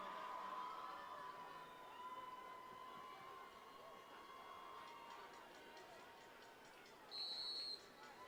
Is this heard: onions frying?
no